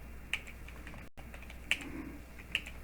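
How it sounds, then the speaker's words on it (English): A computer keyboard tapped in a few sparse, separate keystrokes, close and fairly quiet, against a low steady hum. "So you can type your name"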